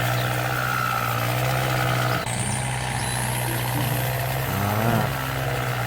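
Kubota M7060 tractor engine running in Farming Simulator 19, a steady low drone that shifts pitch as the tractor speeds up, with a brief high whine rising partway through.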